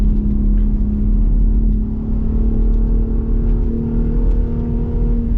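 A 2022 Ford Raptor pickup truck driving hard off-road, its engine droning loud and steady close by with a constant low rumble and no talk.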